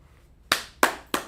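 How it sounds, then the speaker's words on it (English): Three sharp, separate claps ring out in a classroom about a third of a second apart, each a crisp close hit with a short decay into near silence. "Let's clap it up for them."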